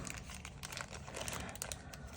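Plastic bags crinkle and rustle in quick, irregular bursts while someone unpacks the case of an FB Radom VIS 100 M1 pistol, faint and close with no voices.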